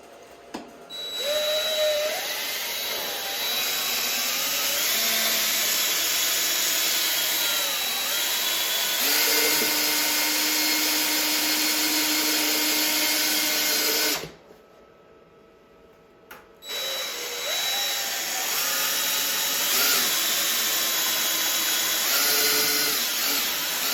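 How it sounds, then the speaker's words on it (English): Tile mortar for laying tile over a concrete floor is mixed with a steady, high-pitched motorized whine that runs continuously, cuts out briefly partway through, then starts again and keeps going. "And you mix it for about 5 minutes until it's peanut butter consistency."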